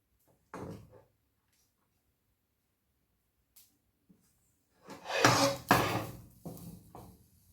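Egg fried rice being stirred in a pan with vegetables and soy sauce, a few sparse scraping and knocking sounds, louder clustered scrapes toward the end, quiet gaps between.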